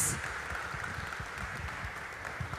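Church audience applauding at a university foundation anniversary thanksgiving service, a steady wash of clapping that holds at an even level throughout with no voices on top.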